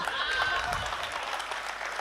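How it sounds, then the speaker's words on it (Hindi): Applause from a crowd at a poetry gathering, moderate and sustained, a brief burst of clapping with a voice faintly mixed in. "तालियां कमजोर हैं आपकी, तो जोरदार तालियां उठनी चाहिए।"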